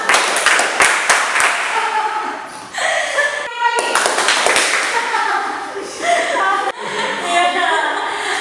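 A group of students claps in rhythmic patterns during a tepuk clapping game in a university classroom lesson, short bursts of sharp claps separated by pauses, with a leader's voice calling and some laughter.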